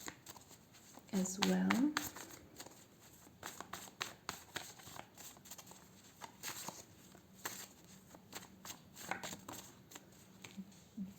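Tarot cards being shuffled by hand in a brief, close burst of rapid riffling near the start, followed by softer handling sounds under a quiet speaking voice.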